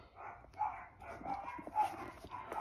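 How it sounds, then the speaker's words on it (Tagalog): Several dogs bark and yip in a home, a run of short, mid-loud barks coming in quick bursts at moderate distance with no talk over them. "Sensya na kayo maingay yung mga aso namin"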